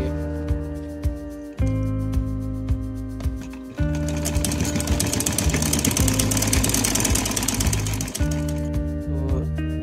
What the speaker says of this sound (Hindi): अभी हमने रबर डालने के लिए जो सुराख रखा था उसके ऊपर हम सिलाई लगा देंगे